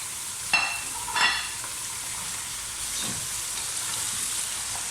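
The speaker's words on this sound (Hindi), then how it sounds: "इसमें हम इसे 3 से 4 मिनट अच्छी तरह ऑयल में भूनेंगे" A kilo of mutton fries in oil with ginger and garlic, two sharp splattering bursts near the start settling into a steady, even sizzle.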